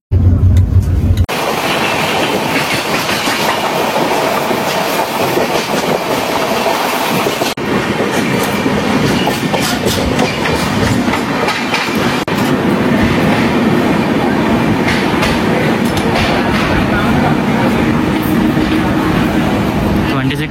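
The Tirumala Express from Visakhapatnam to Tirupati rolls along the rails with a loud, steady rumble and faint clickety-clack, heard from inside a carriage whose AC is not working; a brief louder burst opens the sound.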